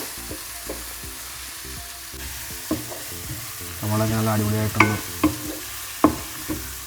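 Crab roast masala being stirred in a pan, with a low sizzle of frying and scraping strokes that come and go in short bursts, under light talk.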